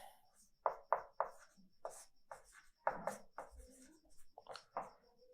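Writing on a classroom board during a physics lecture, a series of short distinct scratchy strokes in bursts with pauses, close and fairly clear.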